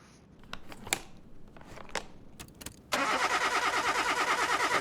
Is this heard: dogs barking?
no